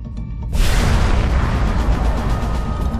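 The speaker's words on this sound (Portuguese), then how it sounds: "A supernova é a explosão colossal de uma estrela no fim da vida. Ela faz simplesmente BAM!" A supernova explosion sound effect: a sudden loud booming blast erupts after a brief quiet lead-in, then sustains as a dense roaring rumble that slowly tapers.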